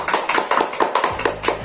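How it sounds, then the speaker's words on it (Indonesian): A classroom group claps for a student, quick close handclaps in a rhythmic, fairly even patter, loud and near, with no talking over it. "Beri tepuk tangan untuk Susi dulu."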